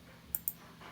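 Two quick, sharp mouse clicks close together, crisp and close-up in an otherwise quiet room.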